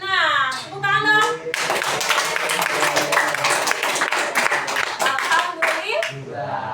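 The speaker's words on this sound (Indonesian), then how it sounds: "Tepuk tangan dong" A classroom in a maths teaching practice lesson breaks into steady, dense applause for the winning group, lasting several seconds between a teacher's voice at the start and end.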